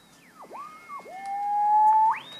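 Crystal marker calibration tone from a Panasonic RF-2200 radio: a whistling heterodyne that swoops down and back up twice, then settles into a steady clear tone before sliding higher, with no one talking.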